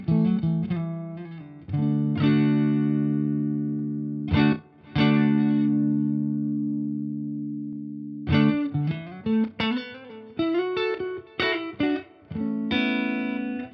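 Electric guitar through a Fender Tone Master Pro amp model plays chords and single notes, with ringing sustain and a short reverb tail on some passages while others, reverb bypassed, sound drier.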